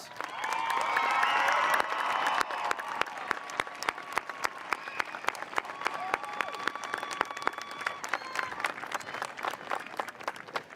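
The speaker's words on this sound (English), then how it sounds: "Let's give our graduates a thunderous round of applause." A 2021 high school graduation crowd applauds, with cheering and whoops at the start that give way to sustained clapping with sharp distinct claps, heard from a distance in a large space.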